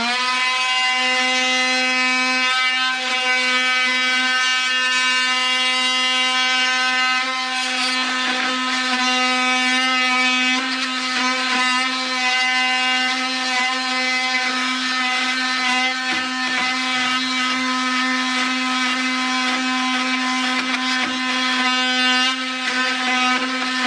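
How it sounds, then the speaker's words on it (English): An oscillating multi-tool trims the wood end of a garage door header, a steady, loud, close buzzing drone that holds an even pitch for over twenty seconds with only slight wavers as the blade bites. "I'm gonna use my multi-tool to get rid of that."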